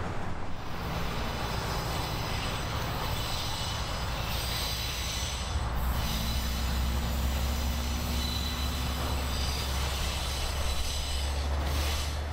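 A freight train hauling wagons of square steel billet bound for Pacific Steel in Otahuhu, Auckland, rumbles past steadily with rolling wheel noise and occasional squealing, loud and continuous, with no voices.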